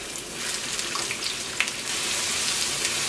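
Onion, ginger, garlic and green chilli sautéing in hot coconut oil for a Kerala crab roast, giving a steady, fairly quiet hiss and sizzle with faint crackles throughout, no voices.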